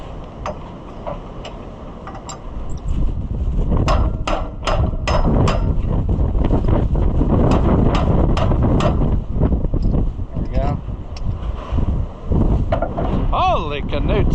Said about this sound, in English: I just put these over a drawbar and then hammer it home.